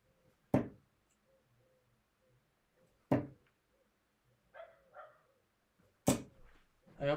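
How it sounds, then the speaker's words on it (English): A dog barks sharply three times in a home setting during a darts game, each bark loud, close and well spaced, with faint scuffles between them. "I hope dog's barking."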